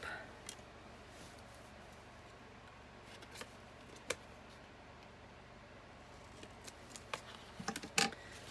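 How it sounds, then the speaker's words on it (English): A few faint, crisp snips of scissors trimming a 1-inch paper strip for a handmade card, scattered at first, then clustering in quick succession toward the end in a quiet room. "trim it off with the scissors"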